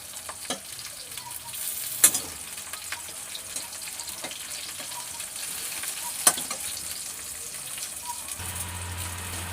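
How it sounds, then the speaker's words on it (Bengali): Eggplant slices fry in hot oil in a pan on a gas stove, giving a steady close sizzle with occasional sharp clinks and scrapes of a utensil. "গ্যাসটাকে বাড়িয়ে দিয়ে বেগুনটাকে এবার ভাজবো।"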